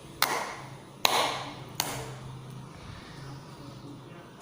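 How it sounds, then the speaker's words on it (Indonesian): Hands clap out a song's rhythm pattern: three sharp claps spaced unevenly over a quiet, slightly noisy room, with a faint low hum between them and no voices. "berlatih membuat pola irama lagu dengan menggunakan tepukan tangan"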